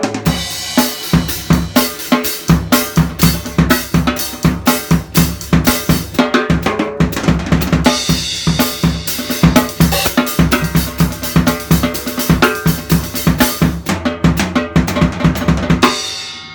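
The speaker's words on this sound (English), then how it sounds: "the fourth measure of a groove, as half eighth note triplets and half 16th note triplets." Drum kit groove ending in a fill split between eighth-note and sixteenth-note triplets, loud steady hits with a bright cowbell-like ring, driving throughout and stopping abruptly at the end.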